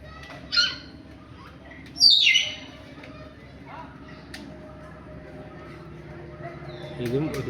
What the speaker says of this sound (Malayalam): ആഫ്രിക്കൻ ചാരത്തത്ത എന്ന് പറയുന്ന പക്ഷിയാണ്